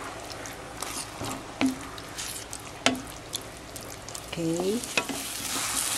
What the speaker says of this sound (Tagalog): Haluin po natin ito hanggang sa mawala yung liquid at kumunat